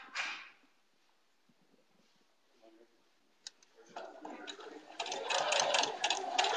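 A domestic sewing machine stitches a quilt block for a Road to California quilt, starting with a faint short whir and then running loud and close in fast continuous bursts toward the end.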